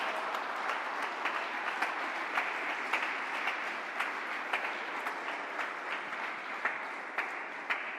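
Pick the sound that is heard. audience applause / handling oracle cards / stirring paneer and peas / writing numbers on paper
audience applause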